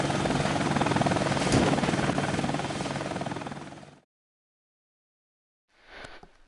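Steady, loud rotor and engine roar from a Hind attack helicopter in the game Air Missions: Hind, cutting off abruptly after about four seconds, then a brief return of the sound near the end.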